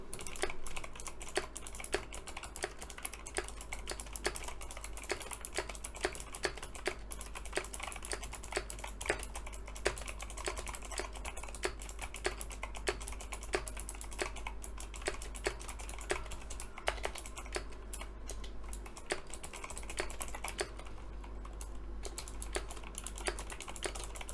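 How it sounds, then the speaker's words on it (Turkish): Steady, rapid clicky keystrokes from a Razer BlackWidow TE V3 mechanical keyboard with green switches, typed continuously and close up with no voices. "yeşil switch'li olan versiyonda bir şeyler yazacağım"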